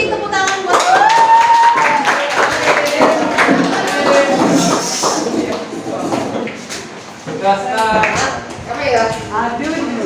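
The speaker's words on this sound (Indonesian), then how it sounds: "Beri tepuk tangan buat" Students in a classroom give a round of applause, with scattered, uneven claps mixed with a teacher talking over and after them at close range.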